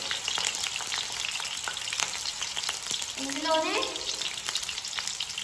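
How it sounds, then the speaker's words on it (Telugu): Chopped green chillies sizzle and crackle steadily in hot oil in a home kitchen, a dense continuous frying hiss, with a brief voice speaking over it midway. "ఇందులోకి మనం కట్ చేసి పెట్టుకున్న పచ్చిమిర్చి యాడ్ చేసేసుకుందాం ఇది కొంచెం ఆయిల్లో వేగాలి"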